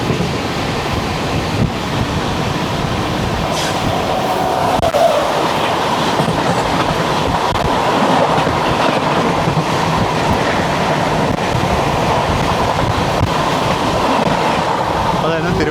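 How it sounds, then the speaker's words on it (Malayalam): Netravati Express train on the Konkan Railway, between Thiruvananthapuram and Lokmanya Tilak Terminus, passing close by with a loud, steady rumble and rattling clickety-clack of wagons that lasts throughout. "അതായിരുന്നു തിരുവനന്തപുരം ലോക്മാന്യ തിലക് ടെർമിനസ് നേത്രാവതി എക്സ്പ്രസ്."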